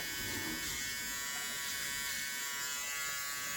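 An electric hair clipper buzzes continuously while cutting a head of hair, a close, steady high-pitched motor drone with slight shifts in tone as it passes over the scalp.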